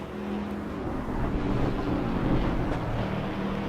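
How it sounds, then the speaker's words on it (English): Low grumbly engine of a chunky big car in the racing game Assetto Corsa EVO, a steady dense rumble swelling slightly in the middle, loud and close with no talking over it. "listen to that low grumbly engine though"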